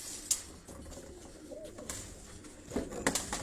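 Pigeons coo softly in a yard in Havelian, Hazara, with faint low calls and some sharper bird sounds over a quiet outdoor background.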